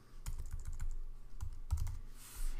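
Quick bursts of key presses on a computer keyboard, close and fairly quiet, with short clusters of clicks separated by brief pauses and no talking.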